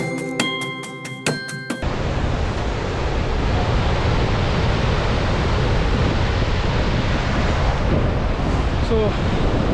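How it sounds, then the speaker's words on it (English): Shivanasamudra Waterfalls near Bengaluru produce a dense, steady roar that fills the scene after a short musical intro, loud and unbroken like heavy surf or strong wind. "So that is Shivanasamudra Waterfalls"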